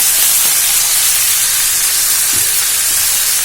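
Steady, loud sizzle and hiss of two spoonfuls of ground red chilli hitting hot oil in a pan already seasoned with turmeric and asafoetida, a continuous close frying noise with no talking.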